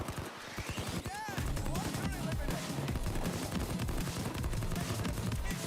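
Gewehr 3 assault rifle fire in the video game Payday 2: dense, rapid automatic shots roar continuously and loudly after a brief opening, with a voice heard at the very start.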